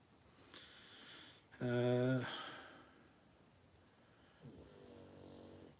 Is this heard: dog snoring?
yes